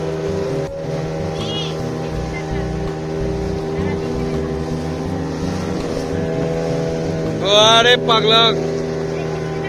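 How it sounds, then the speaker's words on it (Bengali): Speedboat ride on the sea at Dublagadi beach in Balasore, a steady engine drone with wind and water rush running throughout, while people talk and one shouts briefly near the end. "মানে সিতে স্পিড বোট রাইডিং।"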